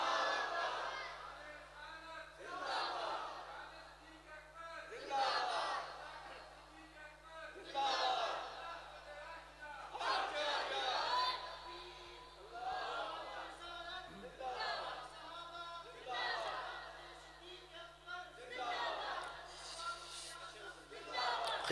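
A large crowd at a naat gathering chants religious slogans in repeated rhythmic call-and-response bursts, roughly every two to three seconds, loud and echoing across a hall under steady mains hum.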